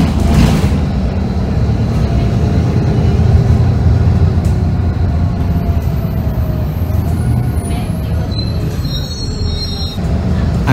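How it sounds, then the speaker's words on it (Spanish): Inside a moving Buenos Aires line 50 city bus, the engine and drivetrain drone steadily while the body rattles and metal squeals rise now and then, a loud continuous cabin rumble with no talking. "el sonido interno de este coche es maravilloso"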